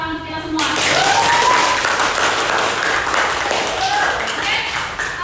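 A classroom of students breaks into applause, a broad steady wash of many hands clapping that swells quickly and holds, with faint voices calling out beneath it.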